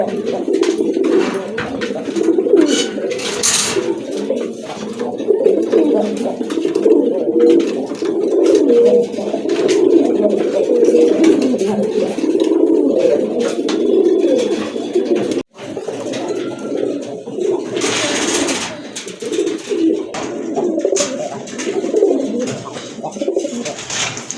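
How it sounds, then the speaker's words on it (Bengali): A pair of khaki running pigeons, part of a collection of gola and other local and foreign pigeons for sale, coo loudly and continuously up close in a dense, rolling murmur, with a brief break partway through. "দেখেন খাকির এক জোড়া রানিং কবুতর মাশাআল্লাহ, খুবই সুন্দর কবুতর"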